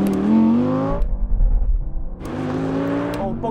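A race car's engine revs hard and climbs in pitch, bogs down into a rough, stumbling low rumble, then picks up and revs again, loud and close with no talk over it.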